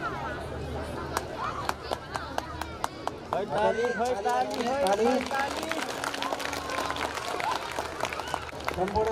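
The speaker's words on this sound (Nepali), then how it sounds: "सम्पूर्ण विद्यार्थी भाइबहिनीहरुले ताली लगाएर सबैलाई सम्मान गर्न अनुरोध गर्दछु" Students at a school annual function in Bharatpur applaud a primary-level teacher being honoured. Scattered, uneven claps ring out over a constant wash of crowd chatter and nearby voices.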